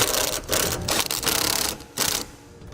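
A ratchet with a 20mm socket tightens the bolts of a Curt trailer hitch receiver on a 2018 Ford Explorer, giving several close bursts of rapid mechanical clicking separated by brief pauses.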